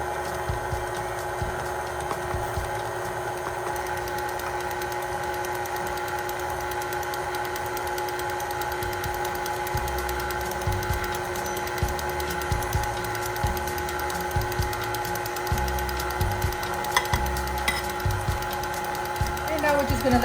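A stand mixer beats butter and sugar at medium speed for a pound cake, a steady mid-level motor hum with faint rhythmic knocking throughout, no pauses.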